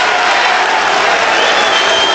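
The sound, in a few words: crowd cheering an NBA draft pick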